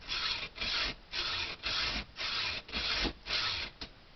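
Hacksaw cutting through a steel shotgun barrel past the vent rib, a steady rhythm of loud rasping back-and-forth strokes, about seven close strokes with brief gaps between them and no talking.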